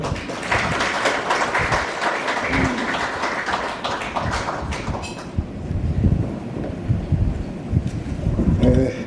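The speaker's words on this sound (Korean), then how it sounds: "박수로 맞이해 주십시오." Dense, steady crowd applause fills a hall at the opening ceremony of a world Korean journalists' convention, welcoming a speaker to the stage before thinning out after about five seconds as a voice begins speaking.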